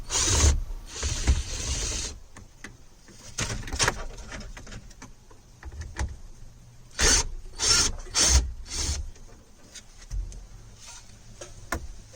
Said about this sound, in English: Remove four screws that are holding the radio.